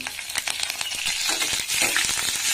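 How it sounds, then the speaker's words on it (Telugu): Urad dal, cumin, mustard seeds, asafoetida and curry leaves crackle and sizzle steadily in hot oil, with sharp popping bursts throughout; no one speaks. "అన్నీ వేసి తాలింపుని దోరగా వేగనివ్వాలి"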